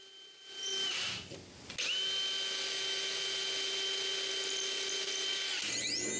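Power drill boring holes in the back of wooden drawer handles through a template: a short start-up whir, then a steady, loud, high-pitched drilling whine held for several seconds before winding down.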